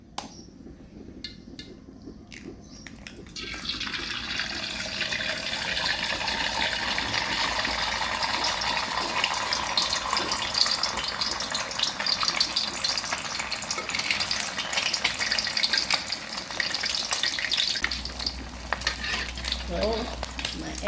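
An egg fries in hot vegetable oil in a pan for a Thai holy basil stir-fry, giving a loud, steady sizzle and crackle that starts after a quiet moment and continues without talk.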